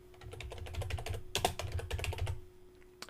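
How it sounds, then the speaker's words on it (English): Typing a focus keyword on a computer keyboard produces a steady run of close, crisp key clicks for about two and a half seconds, with one sharper clack midway, over a low background hum. "what I'm going to do is type in my focus keyword"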